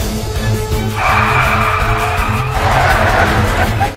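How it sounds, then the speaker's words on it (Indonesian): A car skids under hard braking during a chase, with a loud, sustained tire screech over engine rumble that rises in intensity partway through and cuts off abruptly at the end. "berusaha menghentikannya dengan menginjak rem"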